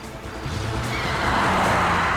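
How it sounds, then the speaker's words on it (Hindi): A car driven fast in a TV crime-drama chase, engine roaring steadily and rising as the tyres skid, loud and continuous with no talk. "गाड़ी तेज चलाओ पंकज, और तेज"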